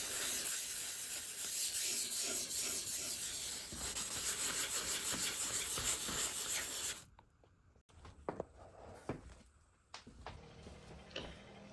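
Light hand sanding on an antique Eastlake wooden entry door gives a steady, close rubbing hiss for about seven seconds, then stops and leaves quieter handling sounds.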